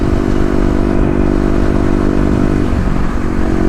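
A Kawasaki KLX250 with Stage 1 mods cruises on the highway, its engine a loud, steady, close drone with heavy wind rumble throughout.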